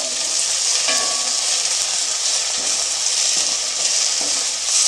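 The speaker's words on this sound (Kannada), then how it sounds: "ಪುಂಡಿ ಸೊಪ್ಪನ್ನು ಹಾಕಿಬಿಟ್ಟು ಅದನ್ನು ಸಹ ಎಣ್ಣೆಯಲ್ಲಿ ಚೆನ್ನಾಗಿ ಫ್ರೈ ಮಾಡ್ಕೊಳ್ತೀನಿ" Gongura (pundi) leaves fry in oil with a bright continuous hissing sizzle, occasional stirring scrapes cutting through, close and steady for the whole stretch.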